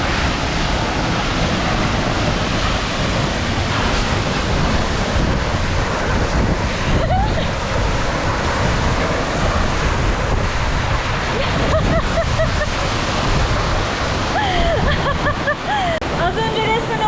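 Sipi Falls waterfall in Uganda roaring up close, a loud, continuous rush of pounding water mixed with heavy wind buffeting the microphone, and a person speaking in bursts over it.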